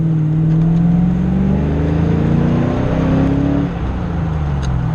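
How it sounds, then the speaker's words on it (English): A 1989 Ford Mustang GT's exhaust drones and revs steadily up close, pitch rising gradually, then easing off near the end, with no voices. "I just have straight up noxiousness coming out my tailpipes."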